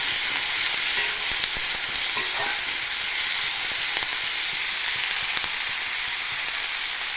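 Sliced onions with a pinch of salt sauté in a very hot wok, giving a steady, loud, broadband sizzle that runs unbroken throughout, with faint scraping stirs now and then.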